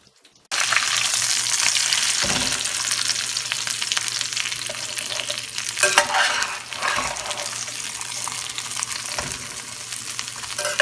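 Pecan panko crusted catfish browns in a frying pan with a loud, continuous close-up sizzle, broken by a few soft clunks of the pan or utensil, and no talking.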